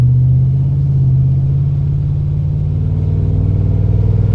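A Chevy 454 V8 in an OBS tow-rig truck, breathing through an open 3.5 to 4 inch exhaust after the cat, gives a loud, steady, deep rumble that swells slightly toward the end.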